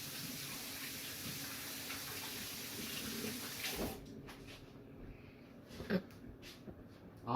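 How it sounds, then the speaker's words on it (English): Tap water runs steadily in a kitchen sink while hands are washed. The flow is soft and continuous for a few seconds, then stops, leaving faint clicks and small handling sounds. "now you have to give me a second to wash my hands"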